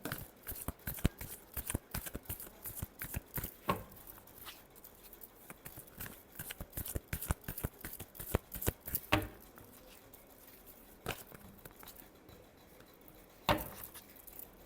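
Tarot cards being shuffled by hand in quick, close, crisp riffling bursts, with a few sharper slaps and pauses between runs.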